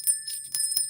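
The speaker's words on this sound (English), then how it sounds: "why Peter's ringing the bell" A small bell rung by a podcast host, a few bright jingling strikes in quick succession, with steady high ringing tones sustained underneath, clear and close with no talking.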